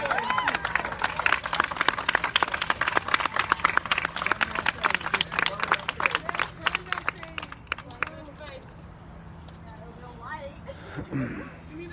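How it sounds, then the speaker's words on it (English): Crowd at a George Floyd protest clapping in a dense, uneven burst of many hands with murmuring voices mixed in, thinning out toward the end. "Should we clap it up?"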